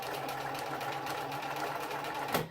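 A sewing machine runs at its top speed, a steady fast mechanical whir with rapid rhythmic stitching, loud and close, cutting off abruptly near the end.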